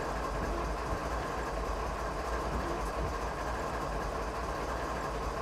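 CSX train rolling along the Northeast Corridor in Train Sim 2015, a steady, fairly quiet rumble of rail noise and engine with no talk.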